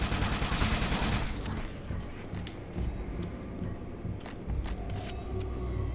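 Heavy gunfire and plasma cannon blasts from Halo 2, a dense continuous barrage of shots with sharp bursts and crackling impacts throughout, loud and busy, with no talking.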